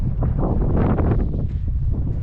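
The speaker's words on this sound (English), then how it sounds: "So it's so windy out here that my hair is blowing and sticking up in the back." Strong gusty wind buffets the microphone outdoors at the Racetrack playa, a loud low rumbling roar that surges and eases without any talk.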